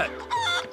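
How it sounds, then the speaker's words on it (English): A chicken in GTA 5 gives short, close clucks in a quick burst, loud and clear with no talk over it. "This is me being a chicken."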